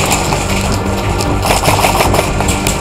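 Rapid bursts of gunfire fill an indoor skirmish game, a loud, continuous rattle of shots with no pause, close and dense.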